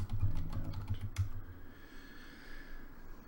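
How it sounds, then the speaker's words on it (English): Fast, close keystrokes on a computer keyboard clatter for about a second, then stop and leave a faint room hum. "I better type this."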